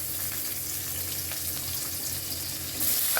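Chopped tomato and green chili fry in oil in a pan, a soft, even hiss of sizzling that stays faint and steady throughout.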